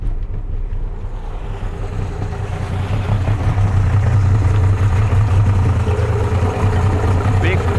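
A Yamaha 60 outboard motor idles in gear, a continuous low burbling drone close by, with someone talking over it.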